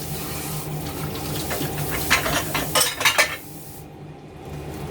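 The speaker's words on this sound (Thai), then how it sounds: "คนทุกอย่างให้เข้ากัน" A utensil clinks and scrapes against a bowl while a sago dessert mixture is stirred, with a few sharper knocks clustered near the middle before the sound fades out.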